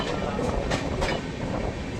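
A train runs steadily near Tirur, heard from inside the carriage as a constant loud rumble and rattle with faint periodic clatter, no clear talk.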